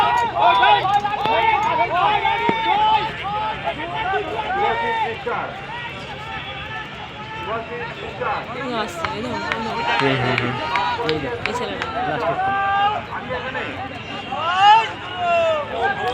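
Police constable recruits run laps in a stadium, their hurried footsteps pattering under continuous crowd chatter and occasional shouted calls.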